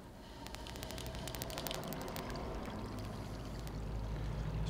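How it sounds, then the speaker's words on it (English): Liquid draining out of a Brewzilla brewing system, a steady quiet pouring and trickling with faint clinks near the start, continuous and low in level. "Okay, I can hear the liquid draining out."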